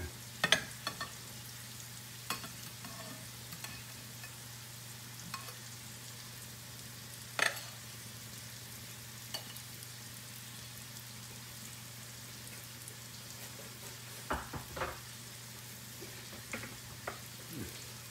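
A large angus beef steak pan roasting with fresh herbs, giving a faint, steady sizzle and crackle with scattered sharper pops and occasional utensil clicks, close by and with no talking.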